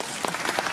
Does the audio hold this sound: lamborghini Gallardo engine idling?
no